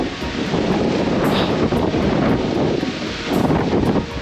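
Wind buffets the microphone outdoors at Wat Thong Hai Hin temple, a loud and continuous rumbling roar that swells and eases in gusts with no voices.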